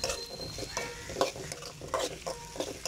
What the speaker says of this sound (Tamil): வெங்காயம் பார்த்தீங்கன்னா வதங்கிட்டு இருக்கு